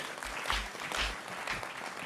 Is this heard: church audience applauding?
yes